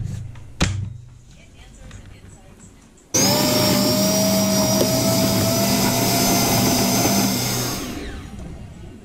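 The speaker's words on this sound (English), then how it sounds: "we're gonna mix together the butter and the sugar" Electric mixer creaming butter and sugar for banana bread, a loud steady whir switching on abruptly after a sharp knock and running continuously for several seconds before winding down.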